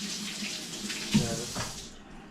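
Running tap water splashes over a kitchen utensil being washed in a sink, a steady close rush with a brief louder splash midway, fading out at the end.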